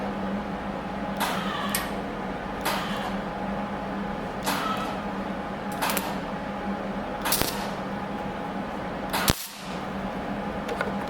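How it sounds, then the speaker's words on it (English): A welder tacks a patch panel onto a Case 830 tractor's medallion area. Several short, sharp crackling bursts arrive at irregular intervals over a low background hum. "So I'm going to throw a little piece of weld right there now."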